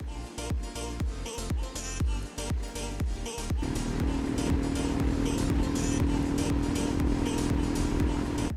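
A Royal Enfield Himalayan 411 motorcycle cruises at about 120 on a highway, with a steady loud engine drone and rushing wind. Thumping bumps from the road come first, then a smoother sustained hum.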